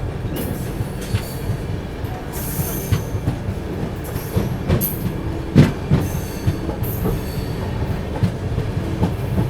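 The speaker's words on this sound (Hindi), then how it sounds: "ट्रेन अपनी निकल गई है हापुड़ जंक्शन से।" Train pulling out of Hapur Junction, heard from aboard: a continuous rumbling rail noise with rhythmic clickety-clack of wheels over joints and occasional squeals and clanks, steady and fairly close.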